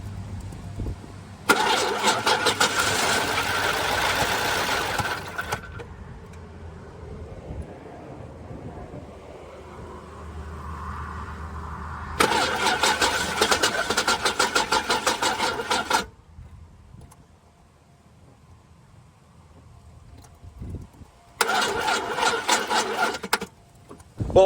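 Cadillac Eldorado with mechanical damage cranking and catching, its engine running briefly in three loud bursts separated by quieter stretches of wind and low rumble, close to the microphone.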